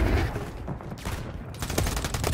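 Dense, sustained gunfire in Call of Duty Modern Warfare 3 multiplayer, a continuous fusillade of rapid shots with overlapping bursts that build louder toward the end, with no talk over it.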